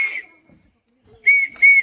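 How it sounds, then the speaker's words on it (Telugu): A rescue whistle at a river rafting site gives a short shrill blip, then after a pause two sharp, piercing blasts close by. "విజిల్ ఇది తీసుక, విజిల్"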